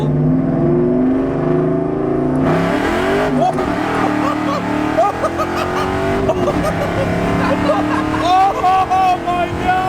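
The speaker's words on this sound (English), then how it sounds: "Should we do a first gear pull?" Car engine revving hard on a first gear pull from a knocking engine, a loud rising roar that climbs sharply in pitch with excited voices over it.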